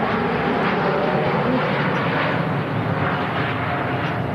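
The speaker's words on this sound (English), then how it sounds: "And there she goes, Singapore Airlines A350 heading on to Houston" A Singapore Airlines Airbus A350 departs for Houston with a loud, steady broadband jet roar that holds throughout and sounds close, with no talk.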